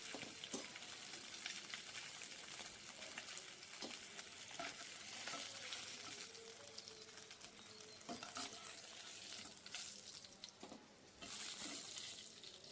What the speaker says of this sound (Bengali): মাছগুলো ভাজা হয়ে গেল